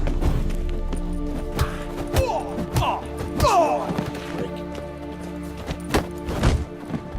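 Horse hooves clop and a horse whinnies in a few rising cries amid a busy, clattering scene in The Witcher video game, with thuds and occasional voices mixed in.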